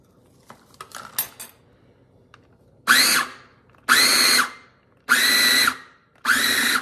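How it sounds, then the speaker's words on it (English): A food processor mixes pumpkin pie crust dough in four short, loud motor pulses after a few quiet clatters of ingredients going in, each burst whirring for about a second. "You can hear the difference in the food processor."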